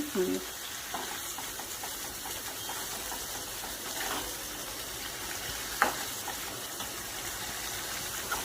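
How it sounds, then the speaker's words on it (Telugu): Ginger fries in oil for a chicken pickle, a quiet steady sizzle close by with occasional stirring scrapes and a sharp clink partway through. "ఇప్పుడు ఇది బాగా వేపేసుకోవాలి ఆయిల్లో అల్లము అన్నీ ఉన్నాయి కదా"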